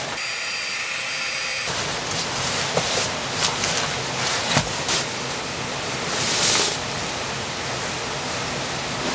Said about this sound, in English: you can just hear the waterfall down there